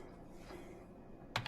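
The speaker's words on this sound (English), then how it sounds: "All right, we're typing it in" Short clatter of keystrokes on a computer keyboard connected through a laptop docking station, a quick burst near the end over a steady low room hum.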